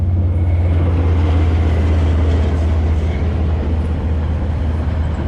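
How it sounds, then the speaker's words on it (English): A train rumbles past at a racetrack pit area, a loud, steady low-pitched roar with a broad wash of noise that holds constant throughout. "So here's a train."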